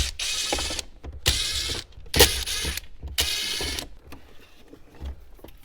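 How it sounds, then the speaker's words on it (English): A ratcheting tool clicks in several loud bursts of about a second each while removing the radio screws from a Jeep Liberty dash, with quieter pauses between the bursts and no speech. "Now what's holding on the radio is either 7mm or Phillips. You can use either. Go ahead and remove your 4 screws."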